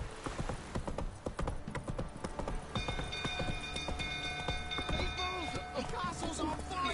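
A horse gallops in The Witcher 3: Wild Hunt, its rapid hoofbeats pounding in a steady, close rhythm while tonal game sounds and occasional voices sit under them.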